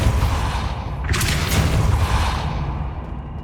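Depulso spell impact in Hogwarts Legacy, a heavy booming blast with a burst of crackling hiss at its peak over a dense rumbling game background, fading out.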